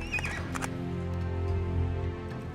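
A horse in the real-time strategy game Battle Realms gives a loud, close neigh, a whinny with a wavering pitch, followed by a lower, sustained snort-like tone, with no voices.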